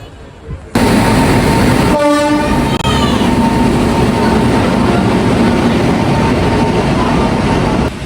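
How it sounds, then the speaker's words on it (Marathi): A train pulls into a Mumbai railway station. A loud horn blast sounds near the start, then a steady, heavy rolling rumble continues throughout at close range. "एक रेल्वे आली आहे आणि आम्ही रेल्वे स्टेशनला आलोय."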